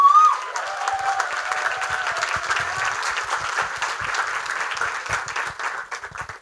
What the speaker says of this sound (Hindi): तो सब कास्ट के लिए एक बार फिर से तालियां हो जाए।